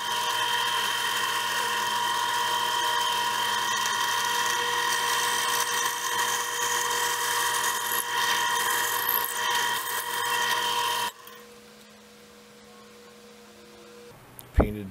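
A loud, steady high-pitched drill whine runs for about eleven seconds as a drill bores out tubes, then stops, leaving a quiet hum and a brief clunk at the end.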